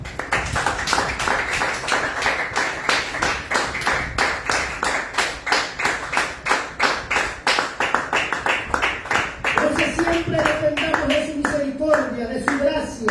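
A church congregation claps in praise during a sermon, with steady rhythmic unison claps at a brisk even beat, loud and close, while voices begin singing or calling out over the final few seconds.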